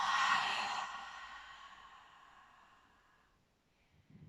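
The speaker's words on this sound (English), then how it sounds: "And out of your mouth, exhale everything out." A deep exhale pushed out through the mouth during a yoga breathing exercise, loud and close at first, then fading slowly into quiet, with a soft stir at the end.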